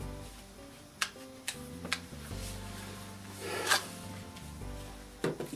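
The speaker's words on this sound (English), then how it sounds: "come in, sand the rough stuff off just like I did before." A disc sander smoothing the rough surface of a carved wooden hammerhead shark, a steady rubbing rasp with a low motor hum and a few sharp ticks as the disc touches the wood.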